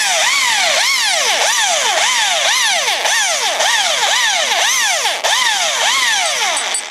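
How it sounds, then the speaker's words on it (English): A power drill grinds loudly up close, boring into a stripped Allen bolt head, its whine rising and falling in a squealing cycle that repeats about twice a second. "the drill we'll just take the head clean off the Allen bolt attached to the drill bit"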